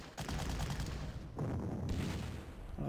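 Ship-to-ship naval gunfire and artillery in the strategy game Panzer Corps, a continuous rumbling barrage of booming shots and bursts, loud and sustained with a brief lull midway.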